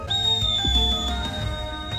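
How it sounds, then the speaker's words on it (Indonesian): A single loud, shrill whistle tone echoes across a valley, holding steady for about two seconds over a low, muffled background rumble. "Peluit nyaring menggema di lembah."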